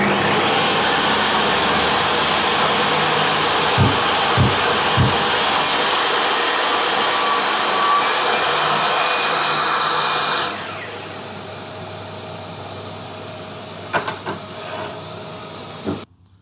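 A Bosch EXTS 100-254 table saw runs at a 45-degree blade tilt, making a bevel cut with the sliding carriage: a loud, steady whining roar with a few knocks, then a sudden drop to a quieter spin-down and clicks.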